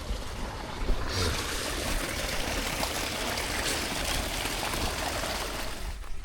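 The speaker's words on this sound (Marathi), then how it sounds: "सोडलं पाणी" Irrigation water released into a farm field flows in a steady, close, broadband rush that runs unbroken for the whole stretch, with no voices over it.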